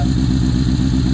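Honda CB750 motorcycle engine idling high after a cold start, a steady, loud, close-up rumble with an even low-pitched pulsing throb and no voices.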